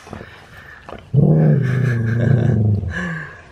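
A dog barks and growls at people walking past, a loud, sustained rough vocal burst up close after a brief quieter lead-in.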